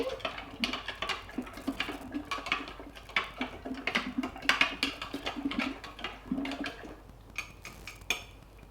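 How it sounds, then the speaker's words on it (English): A utensil stirs sugar into water in a container, giving irregular clinks and scraping taps against the sides, close and fairly quiet, with a faint liquid swish. "Then stir it so the sugar's all dissolved and mixed in."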